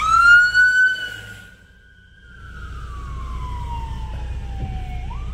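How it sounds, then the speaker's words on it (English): An ambulance siren wails loudly during a tornado, holding one long tone that slowly slides downward before rising again at the very end. "we have another ambulance coming right here beside me"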